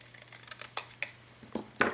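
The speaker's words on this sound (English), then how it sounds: "Just cut it back at an angle." Scissors cut the end of a craft piece back at an angle, giving several short crisp snips that build to a louder final cut, close and alone with no talking.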